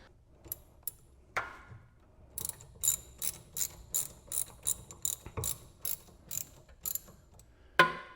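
A hand ratchet clicks in short repeated bursts while the rear brake line is unscrewed on an Acura TL, sounding as a rapid, close, crisp series of ticks with brief pauses between strokes.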